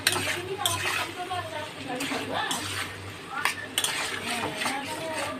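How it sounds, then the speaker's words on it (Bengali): Spice paste being stirred and fried in a pan for a Bengali dish, with steady scraping and clinking of a utensil against the pan under a faint sizzle, several sharper knocks, and a voice talking over it. "মশলাটাকে ভালো করে কষিয়ে নেব"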